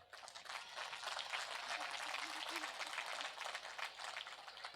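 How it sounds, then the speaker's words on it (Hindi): Audience applause at a Hindi poetry gathering (kavi sammelan) in Kantabanji: a dense, sustained wash of many hands clapping, heard faint and somewhat distant throughout. "एक बार अपनी अपनी मां के सम्मान में ताली बजाकर बताएं।"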